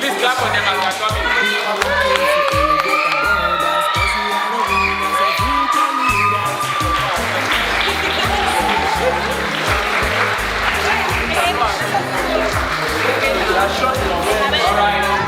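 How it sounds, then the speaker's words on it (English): A hotel ballroom audience at a 2024 summit finals applauds and cheers as the team and staff come forward, steady loud clapping with whoops and crowd babble, music and a voice over it. "please clap for them as they're coming."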